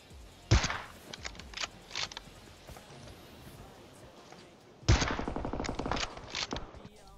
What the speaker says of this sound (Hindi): गोली चला रहा हूँ और बहुत कम बर्बाद हो रही है